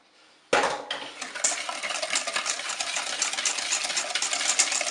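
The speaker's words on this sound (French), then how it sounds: "Je vais commencer par battre le sucre avec le yaourt." Sugar and yogurt are beaten together for a yogurt cake, with a whisk or electric mixer starting abruptly after a brief quiet and then whirring and rattling steadily in a bowl, close and fairly loud.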